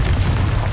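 Confringo blasting spell explosion in a wizard video game, a brief, heavy, booming blast with deep rumbling body, loud and close.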